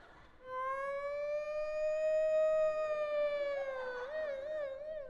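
A single human voice imitates an ambulance siren, holding a long rising-and-falling wail, then switching to a quick warbling yelp at the end.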